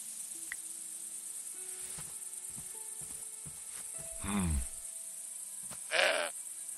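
Goats bleat twice in the video game Broken Sword 5, a wavering cry followed by a sharper one, over steady insect chirring and small background sounds.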